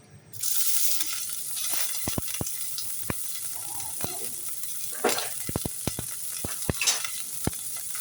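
Onion frying in a pan for curry, a steady close sizzle that starts abruptly, with sharp clicks and clacks of a spatula stirring and scraping throughout, no talk.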